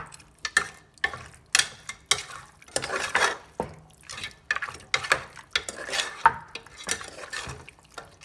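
A spoon clatters and scrapes against a pot as mutton is stirred with turmeric powder; short metallic knocks and scrapes repeat in an irregular rhythm, close and fairly quiet, with no talking.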